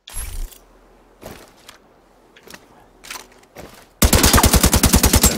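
Automatic weapon fires a rapid burst of about a dozen loud, evenly spaced shots in a video game, starting abruptly after several seconds of quiet clicks and handling noises.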